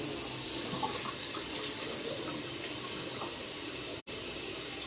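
Cool water runs steadily from a tap in a continuous, close hiss and splash that is briefly cut off near the end.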